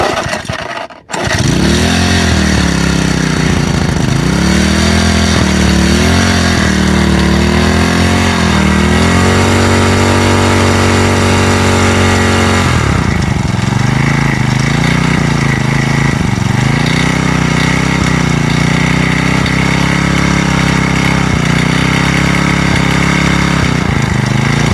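A small lawnmower engine starts with a sputter and runs loudly and continuously, its pitch rising and dipping as the throttle shifts, close by, while pebbles are dropped into it during a durability test.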